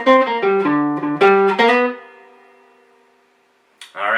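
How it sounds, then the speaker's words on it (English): A swing-style electric lead guitar line, played as a quick descending run full of triplets, with clear picked notes for about two seconds before ringing out and fading into near silence. "We're just going to do it a little faster and throw a lot of triplets in."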